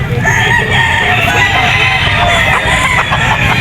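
A gamecock stag rooster of the peacock white-ear, yellow-legged type crows loudly among other fowl clucking at a pet market, with steady background crowd noise.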